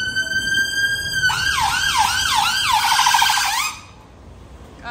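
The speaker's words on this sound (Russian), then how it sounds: "Она сирена." An emergency vehicle siren on a summer London street starts with a steady tone, then switches to a rapid, loud wailing yelp before cutting off abruptly.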